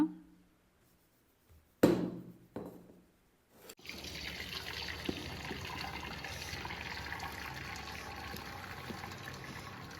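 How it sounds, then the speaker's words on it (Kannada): Water drains from boiled drumstick leaves, starting with a few short clatters and splashes, then settling into a steady, close pouring rush that runs to the end. "ಇದರ ನೀರು ಬೇರೆ ಮತ್ತು ಸೊಪ್ಪನ್ನು ಬೇರೆ ಮಾಡ್ಕೊಳ್ಳೋಣ"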